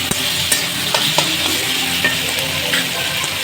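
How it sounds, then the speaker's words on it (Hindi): Onion with garlic-ginger paste frying and being stirred in a pan for an Arbi (taro) sabji, a steady close sizzle with soft scraping stir strokes and no talking. "हल्का सा लहसुन अदरक के पेस्ट के मसाला के साथ भूज रहे हैं ताकि ऊपर हल्का कच्चापन अपना से निकल जाए"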